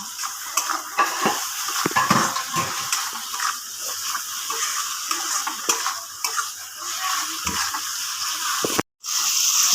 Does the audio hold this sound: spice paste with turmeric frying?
yes